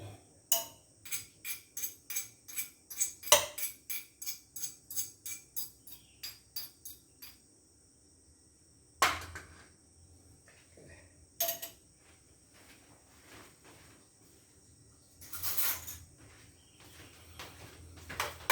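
A utensil works through a cooked mix of shallot, garlic and red chili in a pan, with a quick run of regular clicking taps at first, then sparser scrapes and knocks spaced apart in a quiet kitchen.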